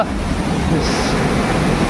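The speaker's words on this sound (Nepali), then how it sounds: "यो पानी यो मुनिबाट बगिरहेको छ" Rushing water pours steadily beneath a dam close to a waterfall at Cherrapunji, a dense, continuous roar of spray and flow with a faint hiss on top and no pauses.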